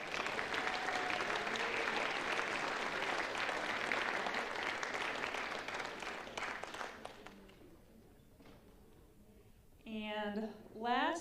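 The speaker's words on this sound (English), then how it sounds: "You can give your class of 2024 a round of applause." A round of applause for a graduating class at a school chapel gathering: sustained crowd clapping for about seven seconds, thinning out, then a voice speaks near the end.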